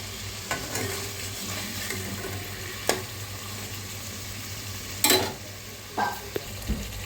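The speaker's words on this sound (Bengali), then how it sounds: "মশলাটা একটু কষাতে হবে, এইভাবেই কষে যাবে।" Masala spice paste for a hilsa fish curry fries steadily in a pan with a continuous low sizzle, broken by a few sharp scraping strokes of a stirring spoon, close and with no one speaking.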